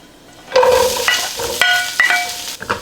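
Heart ends of Gai Lan Chinese broccoli hit hot vegetable oil in a wok, setting off a loud hissing sizzle with sharp metallic clinks and scrapes as they are tossed.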